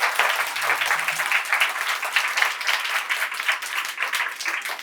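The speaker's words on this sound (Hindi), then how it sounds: "तमाम बच्चे तालियों से इस्तकबाल करें हमारे ख़ास मेहमान के।" Children applauding together to welcome a guest at a centre inauguration, a steady dense burst of clapping from a nearby group lasting several seconds.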